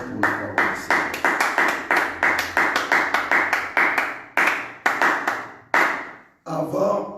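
A church congregation claps in bursts of rhythmic, even beats to acclaim the word of the Lord during a midday prayer service, the clapping close and loud, repeated roughly every second with brief pauses between rounds.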